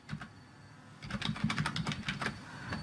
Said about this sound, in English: now I got to type in a URL again